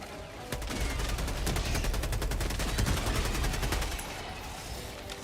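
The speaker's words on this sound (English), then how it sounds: "Orbital strike incoming." Orbital strike explosions and rapid gunfire in the video game Helldivers, a dense continuous barrage of fast shots and blasts, loud and sustained for several seconds before easing off.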